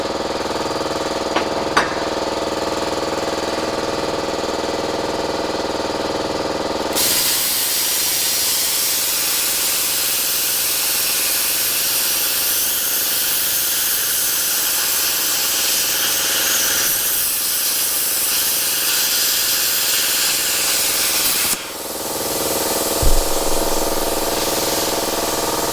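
An Arccaptain Cut55 ProLux plasma cutter slices through 2-inch tube steel, a harsh, loud hissing roar that runs steadily for about fifteen seconds over a background machine hum, then cuts off.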